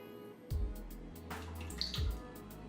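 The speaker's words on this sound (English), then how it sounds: "So first we're going to pour in the whipped cream topping mixture cream stuff." Whipped cream topping mixture being poured into a bowl for a vegan tie-dye cake, a soft liquid glug and splash in a couple of short bursts, close and fairly quiet, with no talk.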